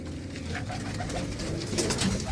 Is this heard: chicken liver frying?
no